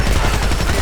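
Heavy, continuous gunfire from the video game Homefront, a dense blur of rapid shots filling the short moment at steady loudness.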